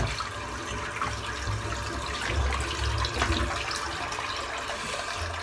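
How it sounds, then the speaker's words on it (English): Cold water runs steadily from a tap into a sink, a continuous close hiss and splash that stays even throughout. "let's just add a bit of cold water in the sink here."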